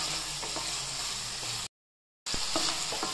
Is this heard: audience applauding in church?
no